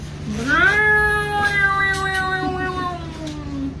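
A single drawn-out cat meow, close and fairly loud, rising and then slowly sliding down, over a steady low hum.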